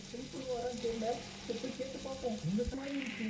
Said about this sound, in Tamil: இது அப்படியே வதங்கட்டும் இது நல்லா வதங்கிருச்சு